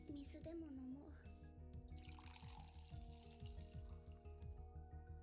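Water runs from a tap in the video game Honkai Impact 3rd, a soft steady flow mixed under a voice and a sustained music bed.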